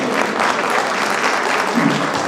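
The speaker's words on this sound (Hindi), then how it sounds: "प्लीज इनका स्वागत भी जोरदार तालियों से होता है" An audience at a company employee annual day celebration applauds steadily, a dense wash of clapping from many hands that stays loud and even throughout, with a voice briefly audible underneath.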